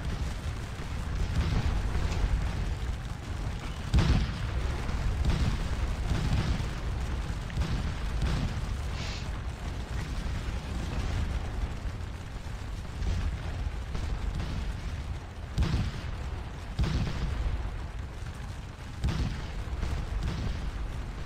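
Artillery booms and explosive bursts from a Napoleonic battle at Waterloo in the Scourge of War video game, with guns firing near Hougoumont, rumbling steadily throughout with several louder thuds rising above the dense battle din.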